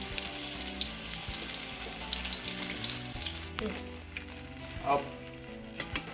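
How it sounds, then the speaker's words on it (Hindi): Gram-flour-battered tarua fry in hot oil with a dense, continuous close sizzle and bubbling, broken by occasional clinks and stirring sounds. "इसके ऊपर हाथ से बेसन के घोल को अच्छी तरह चढ़ाना है और फिर इसको तेल में ट्रांसफर कर देना है।"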